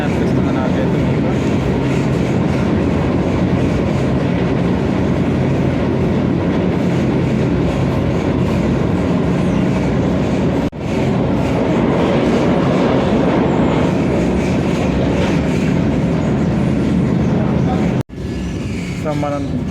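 A Vande Bharat express train runs on the rails between Secunderabad and Tirupati, heard from on board as a loud, continuous rumble with rhythmic clatter, broken by two brief dropouts.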